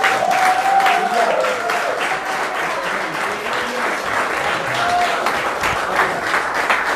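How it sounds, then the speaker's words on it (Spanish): A church congregation claps in a sustained burst of applause, close and loud, with a few raised voices and a brief tonal note mixed in. "Denle un aplauso a aquel."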